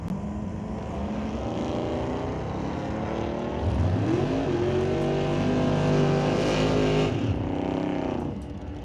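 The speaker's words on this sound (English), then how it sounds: "92 Mustang." A 1992 Ford Mustang drag racing down the track at a qualifying event, engine roaring steadily and climbing in pitch as it accelerates hard past, loud and close, with no talk over it.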